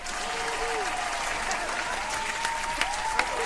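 Audience applause and cheering greet a guitarist arriving on stage, a dense continuous clatter of clapping with a few sharper claps near the end and faint voices mixed in.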